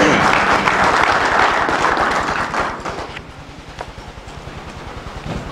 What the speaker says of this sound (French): C'est pour moi l'occasion de les féliciter chaleureusement sous vos applaudissements.